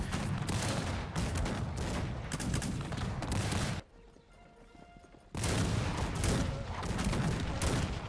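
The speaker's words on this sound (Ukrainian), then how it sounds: "Зараз даю залпи знову гаубицями і гарматами." Dense, continuous rumbling volleys of video-game howitzer and cannon fire crackle and boom almost without pause, broken by a brief quieter stretch before the barrage resumes.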